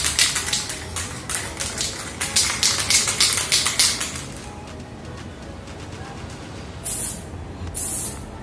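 Short bursts of aerosol spray from a can of Diton fluorescent primer on wheel rims, about a dozen quick hissing pulses in a row, then a pause and two more separate sprays, close and loud.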